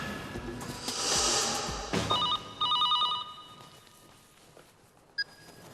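A telephone rings in an office scene, a couple of electronic trilling bursts followed by a short beep, fairly close and clear over a low room murmur with no talking.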